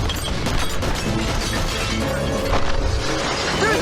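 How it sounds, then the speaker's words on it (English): Loud, dense shattering of glass during an action sequence from the James Bond film Quantum of Solace, a continuous crash with scattered impacts and debris mixed with film score and effects, no one speaking. "This movie's all about the broken glass."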